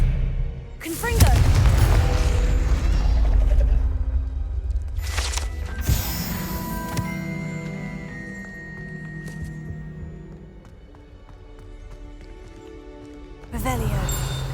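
A Confringo blasting spell explodes in Hogwarts Legacy, a loud booming burst followed by ringing, shimmering magical tones that fade out, then a second sharp impact near the end; a voice speaks over the blast.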